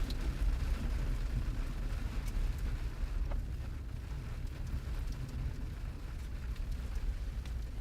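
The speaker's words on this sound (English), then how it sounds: "That's kind of a key piece for us right now is because we've got so much rain" Heavy rain beats down during a storm chase in southwest Iowa, a loud steady roar with low rumble, likely wind and a vehicle, underneath.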